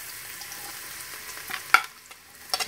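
Finely chopped onion sizzling in warm oil in a pan, a soft steady crackle with a few louder pops and stirring knocks near the end.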